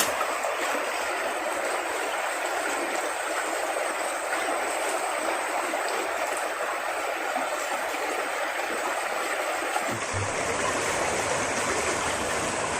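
A swollen, muddy river rushes past after a night of rain, sending out a loud, unbroken roar of flowing water that lasts the whole time, close by and with no voices.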